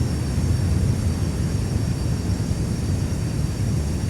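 A Deimos G39 Griffen aircraft flies in Microsoft Flight Simulator 2020, giving a steady, loud engine drone and rush that holds unchanged throughout, with no voices.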